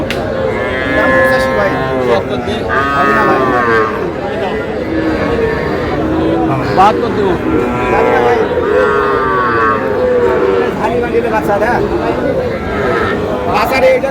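Young bull and heifer calves moo repeatedly at a cattle market in Cumilla, loud close calls overlapping with crowd chatter and people talking throughout.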